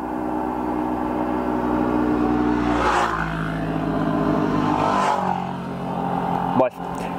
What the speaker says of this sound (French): en plus là c'est cool, il y a des motos.